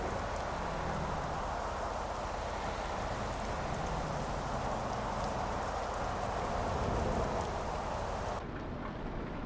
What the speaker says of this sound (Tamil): மழை வேற பெய்யுது இந்த இடத்துல.